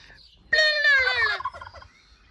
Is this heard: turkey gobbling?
yes